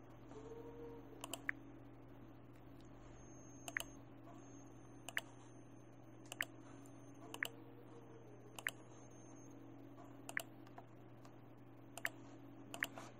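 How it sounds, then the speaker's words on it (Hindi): Sparse keystrokes on a computer keyboard click one at a time at irregular intervals, quiet and close, over a low steady electrical hum in an otherwise silent room. "तो चलिए मैं टाइप कर रहा हूँ"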